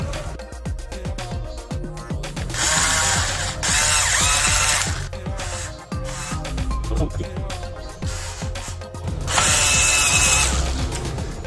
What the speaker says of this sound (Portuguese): completamente parafusado aqui, todos os parafusos